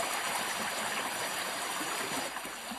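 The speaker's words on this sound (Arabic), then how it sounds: "تنساب مياه العين نحو القصبة المرينية لسقي لبساته" Spring water flows in a steady channel toward the Marinid kasbah to irrigate its gardens, a continuous close rushing trickle with no voices.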